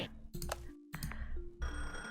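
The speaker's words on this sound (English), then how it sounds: "Phone call." In the Gemporium video game, a phone rings as a chain of short, bright tones repeating in quick bursts, heard alone and fairly close.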